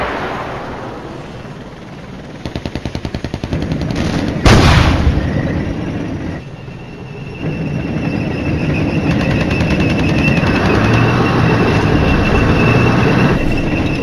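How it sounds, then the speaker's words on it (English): Artillery fire in the Flashpoint Campaigns wargame: a rapid rattling burst, then a loud sharp blast, followed by a sustained rumbling roar of distant guns and engines filling the rest of the stretch, with no talk. "maybe some of our artillery is actually going to hit a target?"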